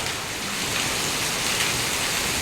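Steady rain falls outdoors, a dense, even hiss of drops on surfaces with no pauses, close and moderately loud, and no voices or other sounds.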